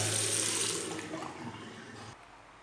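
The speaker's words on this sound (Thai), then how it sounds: "อันนี้น้ำไหลค่อยแล้วนะครับ" Water from a pump-fed tap on a Sonoff Wi-Fi controlled two-system pump setup runs in a steady close stream that gradually eases, then drops to a quieter trickle near the end, with no talking.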